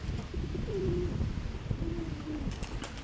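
Pigeons coo softly in low, rolling calls over a steady background hum, a few repeated coos heard at moderate distance.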